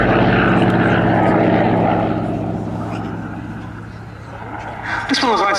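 A Vought Corsair fighter in Fleet Air Arm colours flies at the Duxford air show, its propeller engine droning loud and close at first and then fading away, while a commentator talks over it.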